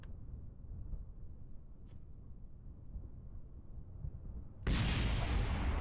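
A rocket explodes in the spaceflight game Kerbal Space Program, a sudden loud broadband burst that cuts in abruptly over a steady low rumble and stays sustained to the end, with no talking.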